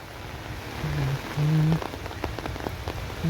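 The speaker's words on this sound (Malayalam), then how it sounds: "നല്ല മഴ പെയ്തോണ്ടിരിക്കുന്നുണ്ട് കേട്ടോ" Steady rain patters down outdoors along a roadside, with a few brief tonal hums and scattered sharper drops standing out against the continuous downpour.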